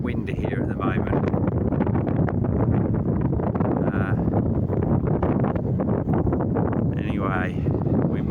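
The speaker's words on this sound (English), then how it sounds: "It's a bit windy here at the moment." Steady wind buffeting the microphone on a tidal island farm during harvest, a constant loud rumble with a voice talking over it.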